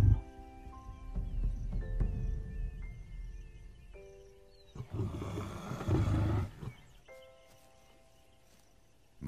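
A lioness gives a hostile warning roar at rival lions, with a deep, loud burst of growling roars in the middle, framed by quieter wild ambience and some softer vocal rumbles.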